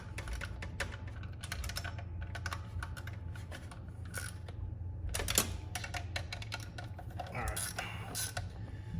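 Ratchet clicking in quick irregular bursts as bolts are tightened on a BMW 335is turbo, close and fairly quiet, with a sharper metallic clank partway through.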